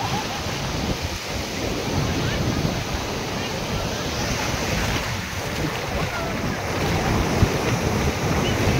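Surf from the Indian Ocean crashing at Puri Beach, a dense continuous wash of breaking waves with heavy wind rumble on the microphone, loud and sustained with slight surges in intensity.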